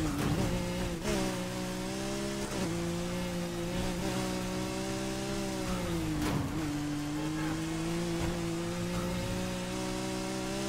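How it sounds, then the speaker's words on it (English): A Lamborghini Aventador SVJ coupe in the Need for Speed Heat video game, its engine droning steadily with pitch dips at gear shifts and brief surges, loud and continuous with no talk. "They're driving a Lamborghini Aventador."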